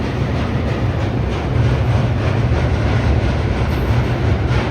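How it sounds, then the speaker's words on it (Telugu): Train crossing the rail bridge over the Ganga at Varanasi, a steady, loud low rumble of rolling wagons that continues throughout. "ట్రైన్ పోతుంది చూడండి."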